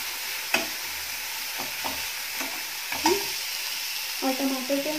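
Chopped tomato and onion fry softly in a pan, with a low steady sizzle broken by several sharp spoon scrapes and clinks as they are stirred, quiet and close.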